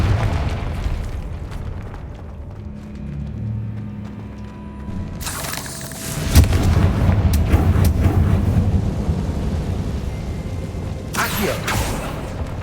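The Confringo fire spell from Hogwarts Legacy goes off as a loud, booming blast with a rumbling burst that settles into a sustained roar, and a second short burst follows near the end.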